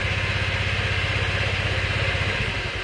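A motorcycle engine idles steadily after being started during a brake light and starter repair, a continuous close, rhythmic low putter with no speech.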